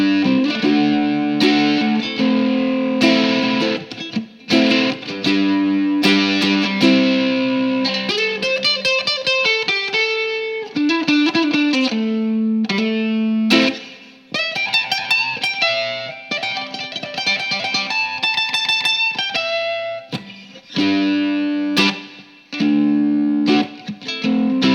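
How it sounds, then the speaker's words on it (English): A ukulele played through an overdrive pedal in tube screamer mode, strummed chords and picked notes coming out gritty and sustained, loud and close, with brief pauses between phrases. "There we go, there's the distortion."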